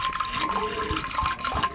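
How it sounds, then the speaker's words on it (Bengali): Water is poured over lentils in a bowl for washing, a short, close, continuous splashing and gurgling pour with a few louder slosh bursts. "আবারও জল দিচ্ছি ধোয়ার জন্য।"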